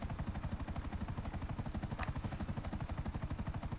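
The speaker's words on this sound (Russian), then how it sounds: "Незарегистрированный вертолет." Helicopter in a GTA video game over Los Santos: a loud, steady rotor chop with fast, even beating pulses and engine whine throughout, with a brief sharp crack midway.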